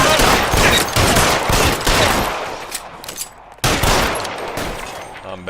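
Rapid bursts of automatic gunfire in a Rockstar video game firefight, loud and dense, with a sustained volley, a brief lull, then another sharp burst.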